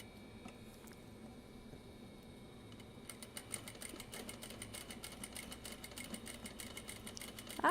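A sewing machine stitches mesh fabric on a zipper pouch. After a few quiet seconds a rapid, steady run of needle strokes starts, close and moderately soft, with no talking.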